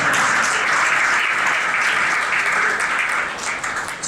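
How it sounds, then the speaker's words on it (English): At a general session on aviation and robotics in Pittsburgh, an audience claps for Matt Smith, with a full, dense wash of applause at steady loudness that tapers slightly at the end. "we should clap for Matt"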